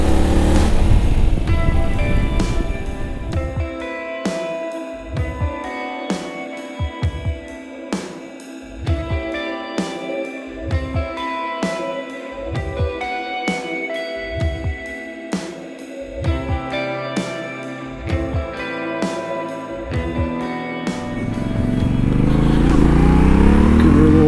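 Yamaha Tenere 700 motorcycle cruising on a paved highway, its engine droning steadily with repeated rising revs and gear changes, loud and close, with wind rush building toward the end.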